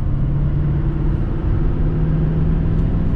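A 2020 Duramax diesel pickup truck pulling at part throttle, a steady low engine rumble with road noise from inside the cab, no voices.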